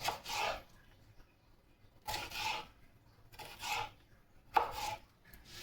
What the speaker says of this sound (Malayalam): എന്നിട്ട് ഇങ്ങനെ അരിഞ്ഞ് സ്ലൈസ് ചെയ്ത് വെക്കുക